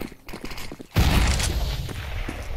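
A loud gunshot from an AWP sniper rifle in Counter-Strike breaks a quiet stretch about one second in, followed by a sustained noisy wash of game sound.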